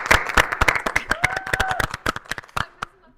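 A studio audience at a podcast taping claps in a loose burst of applause, sharp separate hand claps near and loud at first, thinning out and fading to stray claps at the end, with a brief voice in the middle.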